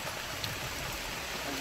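Steady rain falls in a continuous broadband wash at moderate level, with no talk over it and no distinct drops or thunder standing out.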